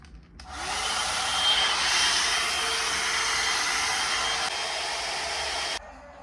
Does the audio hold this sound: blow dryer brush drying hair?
yes